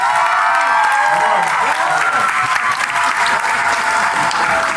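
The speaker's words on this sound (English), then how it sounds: "Give him a hand, come on." A large audience claps and cheers for a community college chancellor at a commencement keynote, a loud, sustained burst of applause with crowd noise and some voices mixed in throughout.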